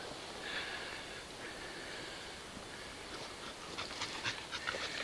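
A dog pants and huffs close by in quick, quiet, rhythmic breaths outdoors, growing a little more forceful toward the end.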